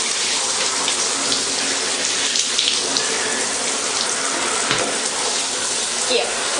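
Hot water runs from a tap in a steady, close hiss and splatter that lasts throughout, with faint background murmur but no clear speech.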